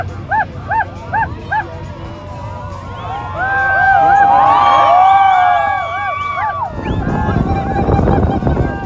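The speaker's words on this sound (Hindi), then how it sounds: "वहाँ से लोग इतना चिल्ला रहे" At a dolphin show in Bet Dwarka, a crowd shouts and cheers, a loud, sustained roar that swells midway. Repeated high chirping calls come just before it, and the noise stays rough and busy to the end.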